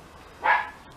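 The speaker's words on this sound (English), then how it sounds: "and I'll apologise for the barking" A Scottish terrier barks once at close range: a single short, sharp bark in a quiet room.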